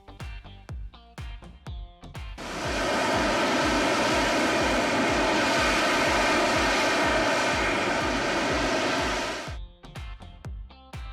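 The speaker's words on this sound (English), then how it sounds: "The AV-8B Harrier does what seems impossible. Its powerful nozzles redirect thrust downward, enabling it to take off and hover vertically." An AV-8B Harrier jet taking off and hovering vertically, its thrust nozzles turned downward, builds into a loud, steady roar that holds for about seven seconds before fading, with sharp clattering knocks before and after.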